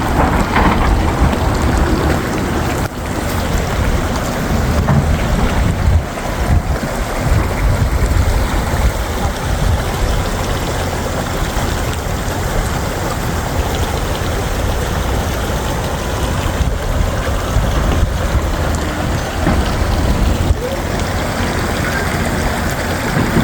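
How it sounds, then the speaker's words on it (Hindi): Near the Mahakali temple, a river rushes loudly in a dense, continuous roar that holds steady throughout, with no voices over it. "यहाँ तो पानी की आवाज़ आने लगी"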